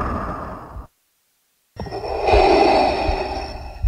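A Lada Zhiguli engine with an air leak that won't start wheezes and puffs with a breathy, hissing rush, broken by a short silent gap before the wheeze returns louder.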